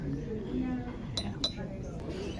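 Coffee cups clink together in a toast, with a few light, bright taps standing out over people talking nearby.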